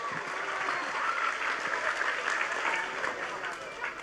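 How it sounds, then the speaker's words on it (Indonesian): Audience applause at a religious gathering in Java: steady, dense clapping from a crowd, fairly close and even in loudness for the whole stretch, with no clear talk over it. "Tepuk tangan dulu."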